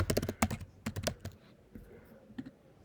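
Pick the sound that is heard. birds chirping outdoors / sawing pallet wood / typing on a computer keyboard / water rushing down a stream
typing on a computer keyboard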